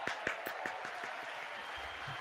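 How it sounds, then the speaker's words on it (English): Applause at a political speech about the administration, dense clapping from a crowd that fades gradually over a couple of seconds, heard at a distance. "I wish there's a version we could like skip on the clapping"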